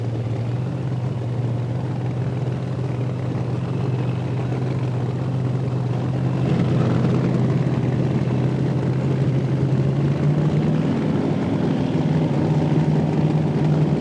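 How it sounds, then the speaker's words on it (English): Funny car drag racers with big block Chevrolet engines idle near the staging lanes. Steady loud low engine rumble runs throughout and swells slightly partway through. "Both powered by big block Chevrolet configuration engines."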